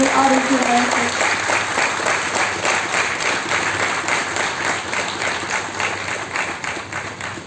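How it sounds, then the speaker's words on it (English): Audience applause at a GST Day celebration in Belgaum as an army major general is welcomed onto the stage, a dense, steady wash of clapping that fades slightly toward the end. "With huge round of applause, please welcome on stage Major General R.S. Guraya."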